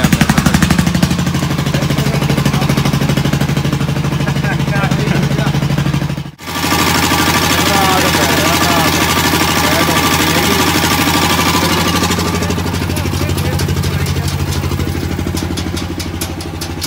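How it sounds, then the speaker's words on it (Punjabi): A generator powering welding repairs on farm equipment in rural Punjab during a power outage, its engine droning loud and continuous with a rough, knocking edge and a brief dip partway through. "ਲਾਈਟ ਆਉਂਦੀ ਨਹੀਂ ਹੈਗੀ ਜਨਰੇਟਰ ਦਾ ਰਾੜ ਪਿਆ"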